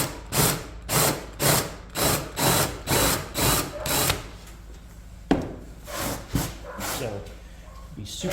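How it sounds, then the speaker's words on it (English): A power drill spinning a paddle bit into wood runs in a rapid series of short, regular bursts, then a few slower, spaced pulses, close and moderately loud. "instead of the drill bit, I'm going to go ahead and use the paddle bit"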